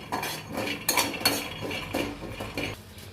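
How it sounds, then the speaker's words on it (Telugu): A metal spoon scrapes and clinks against a pan in a run of uneven strokes while peanuts roast slowly over a low flame, close and fairly quiet, with no voices. "ఇలా స్లో ఫ్లేమ్లో పెట్టి వేయించుకోవాలి"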